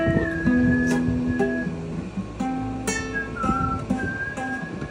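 Melodic whistling carries a tune over a soft musical backing, with clear sustained notes rising and falling at moderate volume.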